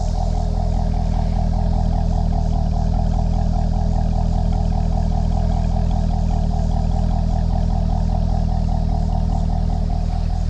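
C6 Corvette with an LS3 V8 engine running, a loud, close, steady throbbing drone with a pulsing rumble that holds constant throughout, with no voices.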